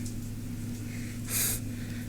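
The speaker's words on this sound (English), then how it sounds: "That's my little Affenpinscher. He coughs and does all kinds of weird stuff." Snorting and coughing from a small Affenpinscher dog indoors, a short hoarse burst of breathy noise near the middle over a steady low hum, close and moderately loud.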